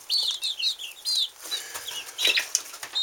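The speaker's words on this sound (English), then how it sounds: "I have 7 cockerels and 5 pullets." Young chickens, a mix of cockerels and pullets, cluck and chirp in short bursts close by, with wings flapping briefly, outdoors and without voices.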